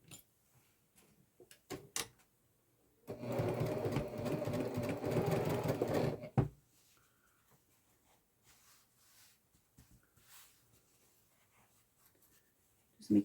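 A sewing machine runs in one steady burst of about three seconds while stitching a messenger bag pocket with a quarter-inch seam, followed by quieter handling sounds.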